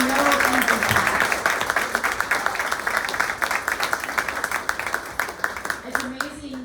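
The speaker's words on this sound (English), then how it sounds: "let's give these guys a round of applause" Audience applause at a dinner event, a crowd of clapping hands with increasingly distinct rhythmic claps, while a voice talks faintly underneath at the start and end.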